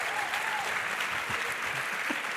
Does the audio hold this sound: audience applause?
yes